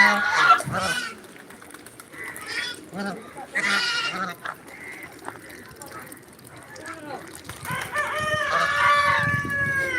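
Chickens cluck and a rooster crows in a lively yard with ducks and geese, people talking nearby and other animal calls mixed in.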